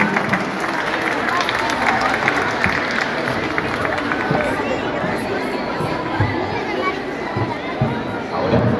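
An audience applauds a children's choir at a Christmas carol contest in a cathedral basilica, a dense, steady wash of clapping that holds evenly for the whole stretch, with crowd murmur mixed in.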